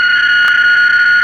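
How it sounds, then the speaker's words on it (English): Digital PSK radio signals received on an amateur radio receiver at a Field Day station, heard as steady warbling tones over hiss with a brief burst of static partway through. "That's the sound of the various PSK signals."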